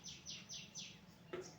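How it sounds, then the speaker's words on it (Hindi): Faint birds chirping on a farm in the morning, four or five quick high tweets in a row and then one more, thin and distant over a soft background hum. "चिड़िया भी चहक रही हैं।"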